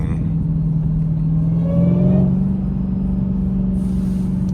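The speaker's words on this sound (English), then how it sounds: "Those downshifts sound crazy too." A supercharged Dodge Demon 170 drones loud and close from the cabin, its engine note climbing briefly in a short rev before settling back to a steady rumble.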